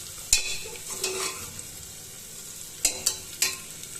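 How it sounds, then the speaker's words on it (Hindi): Spice masala fries in hot oil for arum root (arbi) curry, with a soft steady sizzle broken by sharp spoon scrapes and stirring clatters against the pan. "और यहाँ पे मैं मसाले डाल के मसाला अब भून रही हूँ अच्छे से।"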